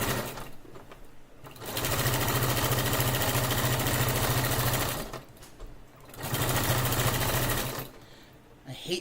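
A sewing machine stitching athletic jersey fabric runs in two long, steady bursts of rapid, even whirring, pausing briefly between them, close and clear.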